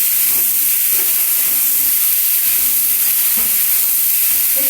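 Pumpkin pieces frying in oil in a pan for a Bengali fish curry, a loud, continuous close-up sizzle and hiss with faint stirring scrapes beneath, no voices.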